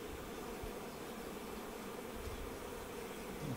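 Honeybees buzz steadily at a hive during spring feeding with sugar syrup, a continuous low drone that sits faintly in the background with no talk over it.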